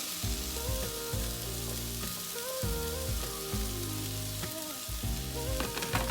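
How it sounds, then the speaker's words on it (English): Cooked sweet potatoes go into a hot pan seasoned with smoked paprika, giving a steady, close sizzle and crackle that carries on for the whole stretch with no talking. "I'm going to just add the cooked sweet potatoes"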